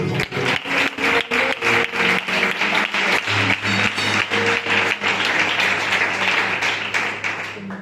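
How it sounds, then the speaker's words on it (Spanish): A church congregation claps in a strong, rhythmic unison beat, loud and steady, with sustained musical tones underneath. "Le damos un fuerte aplauso para Dios"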